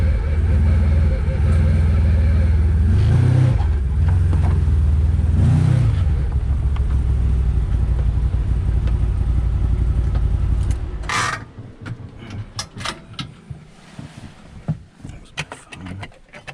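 A CFMoto UForce 1000cc side-by-side labours up a mountain climb, its engine loud and close with a heavy low drone and a couple of revving surges before the noise drops away around eleven seconds, leaving scattered clatter and knocks.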